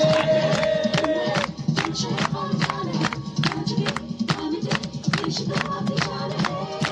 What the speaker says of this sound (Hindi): ये तालियों की जो गूंज है